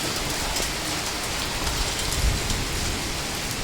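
Steady evening rain falls without a break, a dense close hiss of drops pattering on surfaces, with no voices over it.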